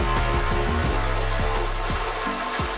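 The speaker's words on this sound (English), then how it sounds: "Next, we're gonna undo this 12mm nut with a support bracket." A tool works a 12mm nut on a support bracket under a Porsche 992 GT3 RS exhaust, giving close, repeated rasping strokes in a quick, uneven rhythm.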